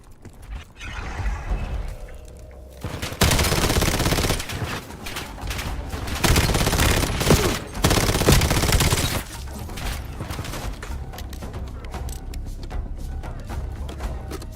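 Rapid, loud bursts of gunfire in the Black Ops video game, shooting at growths on vines, run together as a dense volley for several seconds with no talking.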